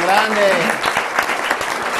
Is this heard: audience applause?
yes